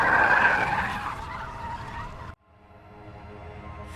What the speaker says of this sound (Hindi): राहुल कार चला रहा था और तभी अचानक कार का टायर पंचर हो गया।